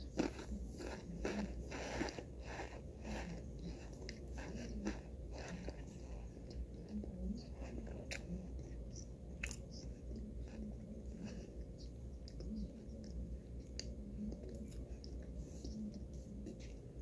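A person chews and swallows cornstarch close to the mic, with a steady run of crunchy bites and soft mastication that continue for the whole stretch with no talk.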